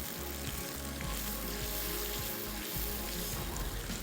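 Badami handi gravy thinned with water simmers and sizzles over a low flame in a handi, a constant dense bubbling hiss, close and even, with no voices.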